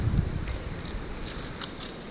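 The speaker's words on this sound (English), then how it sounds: "the wind blows through it instead of against it" Outdoor wind gusts around young fruit tree grafts, giving soft broadband rushing with microphone buffeting, a low thump at the start and a few faint rustles.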